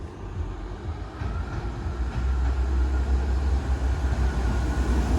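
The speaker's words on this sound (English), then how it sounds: "Ah, we have a train coming the other way." Train approaching St Denys level crossing, a heavy low rumble that swells steadily from moderate to loud and close over several seconds, with broadband rail noise and no talking.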